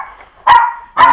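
A Pomeranian in a room of small dogs gives two sharp, loud barks about half a second apart, close by, with quiet whining in between.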